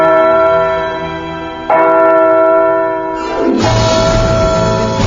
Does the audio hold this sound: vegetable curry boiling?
no